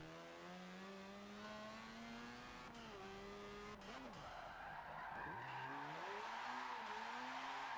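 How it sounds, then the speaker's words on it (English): A Mazda RX-7 engine in Forza Motorsport 7 howls and revs while tires squeal in a drift, pitch dipping and climbing repeatedly as it slides; no one speaks. "Oh, this car sounds crazy."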